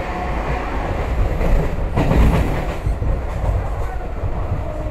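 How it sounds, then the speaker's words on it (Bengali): A Kharagpur–Howrah local train at Uluberia station in India, heard as a steady loud rumble of rolling railcars with rhythmic clickety-clack of wheels over rail joints, swelling briefly near the middle and continuing throughout with no talk. "খড়গপুর হাওড়া লোকাল ধরে"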